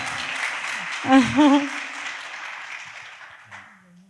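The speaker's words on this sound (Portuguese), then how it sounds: "Vamos, palmas para o Luan." A small audience at a Brazilian oncology risk-detection talk claps to welcome a speaker, a soft diffuse patter of applause fading out over a few seconds, with a brief voice cutting in midway.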